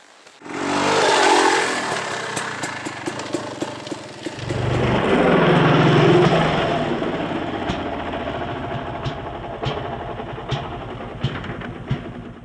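An enduro dirt bike engine revs up and holds a loud, rasping drone during a nose wheelie, with small clicks and rattles running over the steady motor as it fades slightly.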